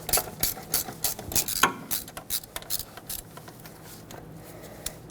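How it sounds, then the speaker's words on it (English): Ratcheting and metallic tool clicks while removing the 12mm bolt holding the brake hose to the front steering knuckle of a 2006-2010 Hyundai Sonata, with rapid irregular clicks and scraping close by and no talk. "you'll see where the brake hose attaches to the knuckle with this 12mm headed bolt. Let's remove that."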